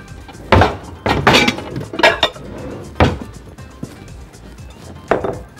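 Kitchen dishware being pulled out and set down to hold chicken: several loud, close clanks and clatters of plates or bowls knocking together at uneven intervals, with quiet handling noise between.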